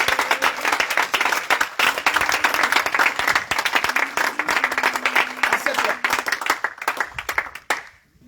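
A church congregation at a repentance and deliverance prayer service in Bassam claps in steady, dense applause that fills the room for several seconds, then stops abruptly near the end.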